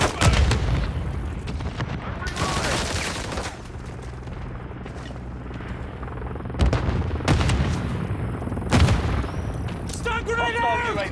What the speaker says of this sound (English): Hostile launcher strike near your position.